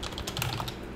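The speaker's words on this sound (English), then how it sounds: "then I'm gonna type in that Java C command that we did originally" A computer keyboard being typed on to enter a Java compile command, a quick close run of crisp key clicks with no talking.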